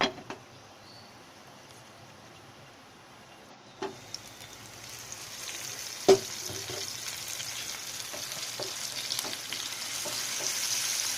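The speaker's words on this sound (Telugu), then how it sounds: "కొద్దిసేపు ఆనియన్స్ మగ్గేదాకా ఉంచుకోవాలి" Onions frying in a pan, a soft continuous sizzle that grows fuller and denser partway through, broken by scattered clicks and a sharp tap of a utensil, close and fairly quiet.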